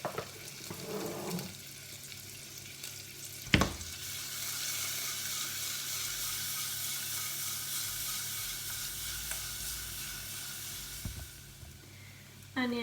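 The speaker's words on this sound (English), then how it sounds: "Onions are sauteed." Onions sautéing with salt in a pan, giving a loud, continuous close sizzle with a couple of brief clinks and knocks along the way.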